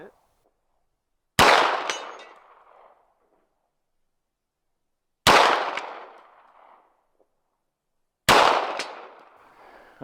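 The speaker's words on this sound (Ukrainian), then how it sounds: "Я буду стріляти в маленьку червону ціль, праворуч від нашого красення." Three loud single gunshots crack out several seconds apart on an outdoor ranch range, each followed by a ringing echo as they are fired at a small red target 100 yards away.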